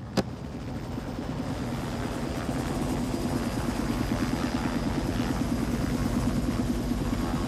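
A steady, droning helicopter-like rotor and engine rumble holds constant throughout, with a single sharp click near the start and no voices.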